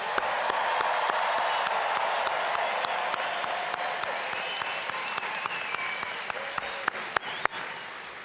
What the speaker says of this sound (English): Let's give the class of 2026 a big round of applause.